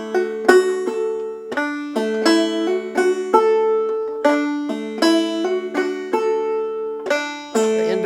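Banjo drop thumb lick on an old-time tune, played alone and close: bright plucked notes in a steady, bouncing rhythm with regular accented attacks and ringing open strings.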